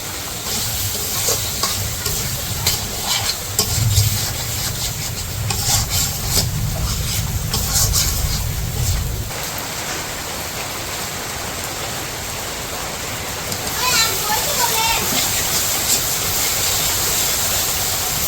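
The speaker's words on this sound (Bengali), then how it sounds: "এখন দিয়ে দিব মাছ, চিংড়ি মাছগুলো দিয়ে দিলাম।" Shrimp frying in a pan for a village-style kachur loti (taro stolon) curry, with a loud, continuous sizzle and crackle and occasional stirring scrapes, steady with no talking.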